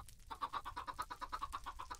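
Chickens in a modded Minecraft farm cluck in a quick, steady run of short repeated notes, moderately loud and continuous with no talking.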